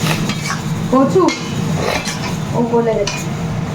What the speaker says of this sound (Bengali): সবজিগুলো তো বয়েল করা ছিল সেগুলো ফ্রাই করছে